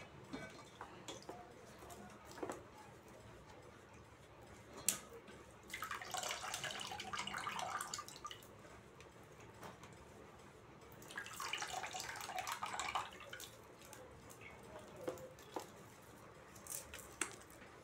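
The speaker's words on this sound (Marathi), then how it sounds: "तर हे बघा आता मी हे काढून याच्यात निथळायला ठेवायची, चांगलं धुवायचं हलक्या हाताने असं" Flattened rice (poha) is rinsed gently by hand and drained in a sieve: two bursts of splashing, running water separated by quieter dripping and handling, with faint clinks in between.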